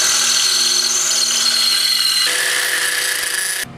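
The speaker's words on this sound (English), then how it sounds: "I want to drill out the rivet and see if a couple of these rivets and see if I got the right size rivets for this." A power drill bores out rivets on an Allis Chalmers 310 tractor during restoration, a loud continuous whirring grind with a pitch shift midway before cutting off abruptly near the end.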